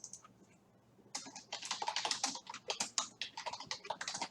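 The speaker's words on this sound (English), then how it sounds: "let me type up the question so it's a bit clearer" Rapid, irregular typing on a computer keyboard, close and fairly loud, with dense clattering keystrokes running steadily after a brief quiet start; no talking.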